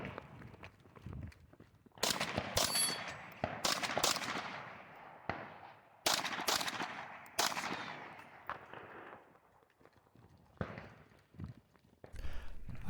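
Gunshots and shotgun blasts on a shooting competition stage, with several sharp loud bangs spread irregularly through the clip, mixed with footsteps, movement and handling noise between shots.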